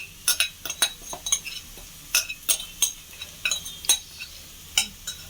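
A spoon stirring masala green avalakki, flattened rice with peas and onion, in a frying pan, a string of sharp metallic clinks and scrapes in irregular rhythm over a faint sizzle, close and clear.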